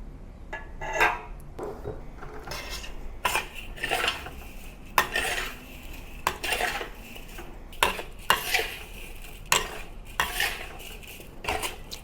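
Taro rice being stirred together with light soy, dark soy and oyster sauce in a bowl, a spoon scraping and clinking close by in a steady rhythm of sharp taps and scrapes.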